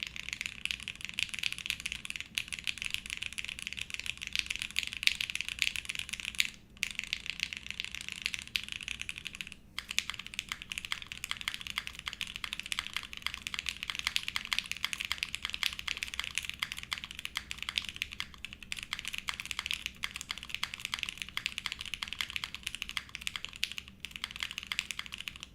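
Continuous typing on an Enter67 v2 mechanical keyboard fitted with Minx switches and a polycarbonate plate, a steady dense stream of close, crisp keystrokes with only a few brief pauses and no talking.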